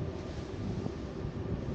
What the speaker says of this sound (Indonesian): itu adalah bunyi angin akibat dari turbulensi yang diciptakan oleh bilah dari kincirnya